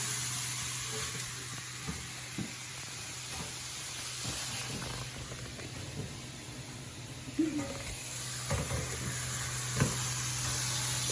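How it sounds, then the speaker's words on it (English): Minced beef browning over fairly high heat in a pan sizzles and hisses steadily, punctuated by occasional scrapes and knocks as it is stirred and broken up. "we just brown off the minced beef on a fairly high heat"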